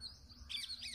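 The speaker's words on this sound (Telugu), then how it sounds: "సో రకరకాల పక్షుల యొక్క శబ్దాలు" Birds call in a village in Sanjeevarayanapalli, Chittoor district, making faint, distant chirps and squawks over a low background hum.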